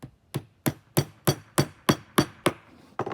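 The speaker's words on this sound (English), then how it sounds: "I'm going to put a nail in to hold it" Hammer driving a nail into a wooden turtle box kit, about nine sharp, evenly spaced knocks close by with no talking.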